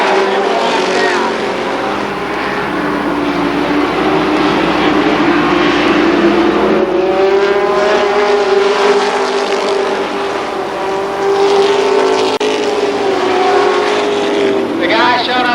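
Modified race cars roar around Columbus Motor Speedway, a continuous loud pack of engines rising and falling in pitch as they lap, with a race announcer talking over the din.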